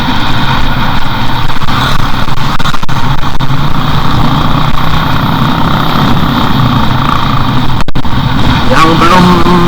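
A motorcycle ridden over a broken, damaged road, its engine droning loudly and steadily throughout with a continuous rumble and no pauses.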